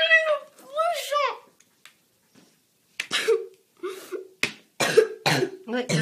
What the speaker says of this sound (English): Look, you're coughing.